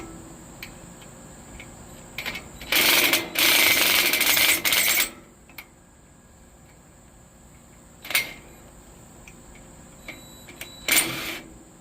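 Metal bolts on rusted Phi Villa patio furniture being loosened, with short bursts of ratcheting, clicking work noise between quiet stretches, one long loud stretch early on and briefer bursts later, near and without talk.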